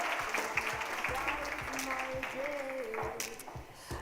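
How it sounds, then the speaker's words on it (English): Applause from an audience at a women's empowerment event in Durban, steady clapping running throughout while voices and a brief tonal sound are heard underneath. "Just give her a big round of applause just one more time."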